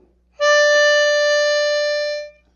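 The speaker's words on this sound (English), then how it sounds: "I'm going to cover 4 holes with my mouth and block 3 of them with my tongue." A single sustained draw note on hole 4 of a C harmonica played with tongue blocking, a steady reedy tone lasting nearly two seconds, close and clear, with no talking.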